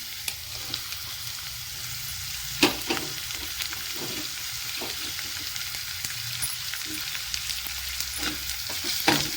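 Onion and tomato fry in a pan with a continuous sizzle while a spoon stirs and taps against the pan in irregular strokes, close and steady, with no talking.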